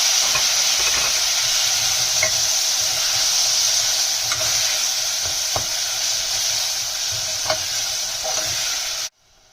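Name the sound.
chopped tomatoes stirred into frying masala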